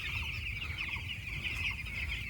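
Many chicks on a chicken farm cheep and cluck continuously in a dense, high-pitched chorus, fairly faint and without talk.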